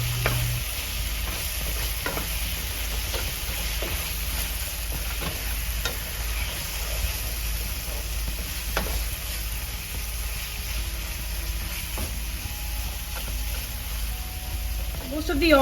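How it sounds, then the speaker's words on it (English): Prawn vindaloo masala, wet with vinegar, frying and sizzling in oil in a pan, a steady close hiss that runs the whole time with occasional stirring scrapes and clinks. "Let's again fry this all together until we see some oil coming out"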